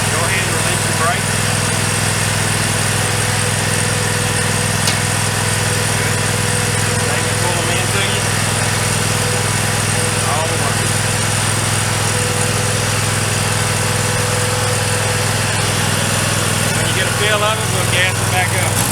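A Scag zero-turn lawn mower engine runs steadily and close by, a constant loud drone throughout with small shifts as the throttle changes.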